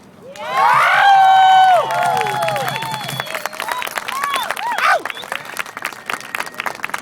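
A live crowd at an Occupy Chicago spoken-word poetry event bursts into loud applause, cheers and whoops, peaking early and then settling into steady clapping and scattered shouts that continue to the end.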